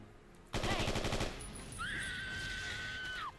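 Rapid automatic gunfire in the video game Fallout: New Vegas rattles loudly for about a second, then gives way to a sustained whining tone and softer background noise.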